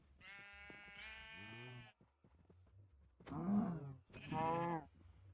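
Sheep in the Minecraft game bleating: a long wavering bleat followed by two more short bleats, fairly close and clear, with faint background noise between calls.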